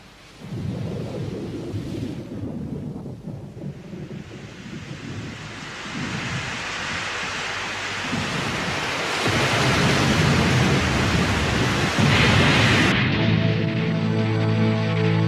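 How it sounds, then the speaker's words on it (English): Video game storm with rolling thunder, crashing surf and gusting wind, a dense roar that builds steadily louder and continues without speech throughout. "I can feel a storm coming."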